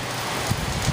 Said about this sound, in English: Whoa, here's a big gust.